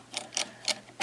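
Turning a safe's handle retracts its bolts, making four crisp metallic clicks spaced irregularly over about a second, the last one loudest.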